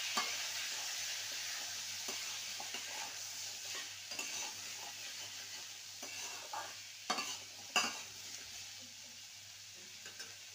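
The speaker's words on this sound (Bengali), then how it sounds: "আলু দিয়ে ভালো করে নেড়ে নেব।" Cut potato pieces stirred in a pan with ginger, a soft continuous sizzle under repeated spoon scrapes and a couple of sharper knocks, fairly quiet with a low hum beneath.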